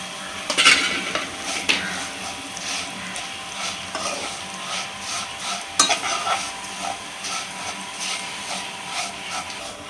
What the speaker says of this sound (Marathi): मी थोडंसं ते जरा कच्चेपणा दूर होण्यासाठी किं असं एक दोन मिनटंच परतून घेणार आहे